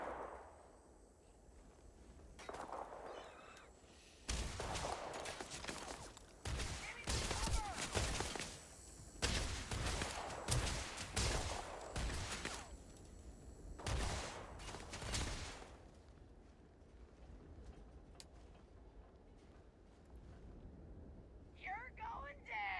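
Video game gunfire in a bounty-hunter game: repeated bursts of rapid shots, some distant and some close, crackling through the middle of the stretch, with someone talking over parts of it.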